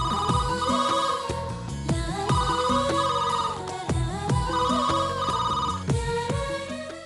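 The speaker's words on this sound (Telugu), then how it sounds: "సీత, ఆ ఫోన్ చూడమ్మా." A telephone rings indoors in a home, its bright melodic ringtone repeating in regular loud bursts with no one speaking.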